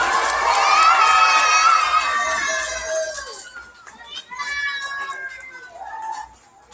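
Children at a summer school graduation cheer loudly together with high shouts and squeals, a big burst that fades and then rises again briefly before dropping off.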